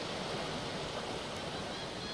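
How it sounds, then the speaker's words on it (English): Steady rush of surf and crashing waves in the Divinity Original Sin 2 fantasy video game, a constant broadband wash without distinct breaks, moderately quiet and alone. "Crashing of waves."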